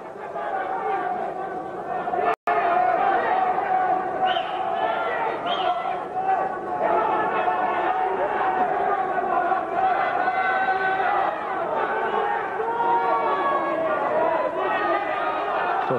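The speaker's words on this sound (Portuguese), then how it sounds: "A torcida quer ver mais ação," A crowd at a grappling match between Amaury Bitetti and Roberto Godoi keeps up a steady, loud murmur and scattered shouts of complaint, a sustained babble throughout with a commentator talking over it.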